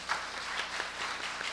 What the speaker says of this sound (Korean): 우리 뜨거운 박수로 여러분들을 모시도록 하겠습니다